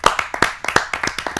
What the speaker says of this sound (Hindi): आप सबकी जोरदार तालियों से स्वागत करते हैं।